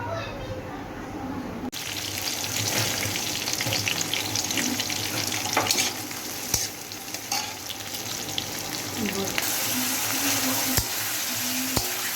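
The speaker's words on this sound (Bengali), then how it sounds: "তো আমি গ্যাসটা জ্বলিয়ে নিয়েছি, এবার আমি তেলটা দেব, দেখো তেলটা দিই।" Oil heats and sizzles in a pan on a gas stove before chicken goes in. A steady, fairly loud frying hiss runs throughout with scattered sharp crackles and pops.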